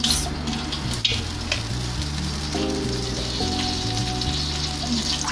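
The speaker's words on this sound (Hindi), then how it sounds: "पतीला मेरा इतना गर्म है कि ऑयल अच्छा खासा गर्म हो गया।" Hot oil sizzling in a heated pot for chana pulao, a soft, even hiss under a low steady hum, close and moderate, with no voices.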